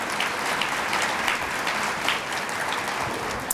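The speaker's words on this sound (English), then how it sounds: "just give him another round of applause" A conference audience applauds Mayor Billy Hughes, a dense, steady wash of many hands clapping at once, sustained and fairly loud with no voices over it.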